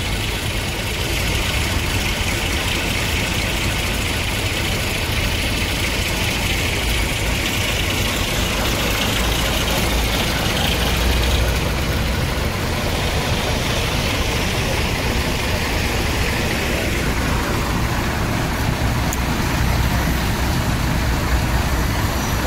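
A diesel bus engine idles with a steady low rumble and hiss before departing, continuous and close, with no speech.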